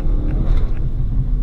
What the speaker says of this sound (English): but this is what it sounds like when you're in sport mode.